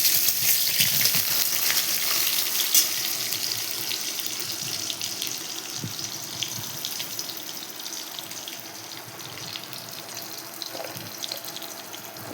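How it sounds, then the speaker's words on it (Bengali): Boiled potatoes frying in a pan of hot oil, a continuous close hiss and sizzle holding steady from start to finish with little variation. "এই আলুগুলো ভেজে নেব।"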